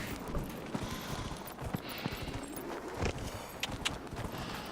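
A horse's hooves clip-clop at a steady walking rhythm in the video game Dragon Age Inquisition, fairly faint against a soft ambient game background.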